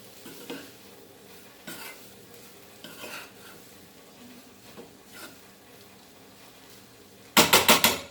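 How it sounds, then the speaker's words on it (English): Chickpeas being stirred through masala in a pan for Goan dry chana, with scattered spoon scrapes and clanks over a faint sizzle, ending in a burst of loud rapid metallic scraping. "Mix it nicely. Let the masala go to this chana."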